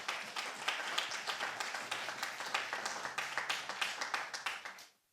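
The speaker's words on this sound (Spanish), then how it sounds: "denle un fuerte aplauso al Rey" A church congregation claps loudly together in a dense, rhythmic burst of applause that lasts several seconds and then cuts off abruptly.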